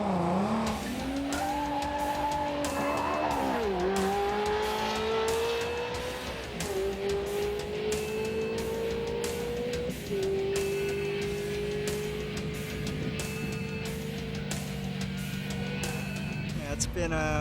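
Race cars lap the Willow Springs road course in hot, windy, dusty conditions, engines droning loud and close with rising and falling pitch as they shift and accelerate, steady throughout with faint tire noise.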